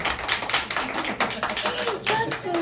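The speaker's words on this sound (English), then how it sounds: "Applause, applause, applause." Scattered clapping welcoming a guest to an interview show, uneven and fairly sparse, with bursts of claps mixed with chatter and voices talking over it.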